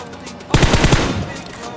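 Bursts of automatic gunfire in a mobile battle royale shooter as an enemy is knocked down, a loud rapid volley of shots beginning abruptly and lasting about half a second before easing into lingering game ambience.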